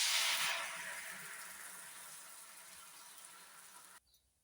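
Batter poured onto an oiled pan for Malvani-style sweet ghavne sizzles loudly at first, a broad hissing fry that slowly fades over several seconds before cutting off abruptly, with no talking.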